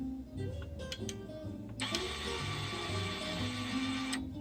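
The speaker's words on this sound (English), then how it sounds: "you can hear the coupler rotating" A small antenna coupler motor on a Collins PRC-515 radio whirs steadily with a mechanical buzz, starting abruptly after some clicks and running for a few seconds before stopping, quiet and close.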